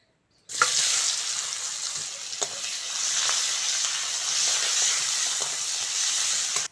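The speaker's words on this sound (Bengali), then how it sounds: "মাছ ভাজার তেলের মধ্যে পেঁয়াজ কুচুনোটা দিয়ে দেব" Chopped onion drops into oil already used for frying fish and bursts into a sudden hissing sizzle that holds steady and loud, with a few soft stirring knocks.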